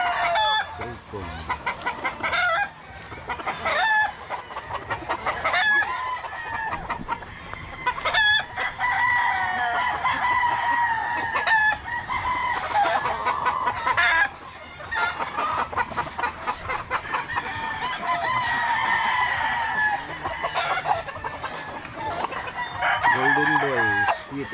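Roosters crow again and again while hens cluck close by on a farm with straight-combed chickens, loud overlapping calls filling the scene, with a voice talking intermittently.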